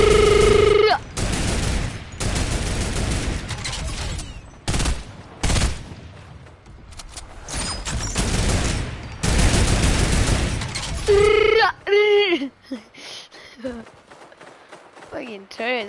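Turret gunfire in the Zenith video game: loud sustained bursts of rapid shots with brief gaps, followed by scattered quieter effects, with a voice briefly audible.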